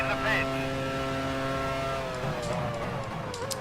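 A Formula One car engine from the racing game F1 Challenge 99-02 drones steadily at high revs with a slight falling pitch shift, heard at moderate level over a faint background.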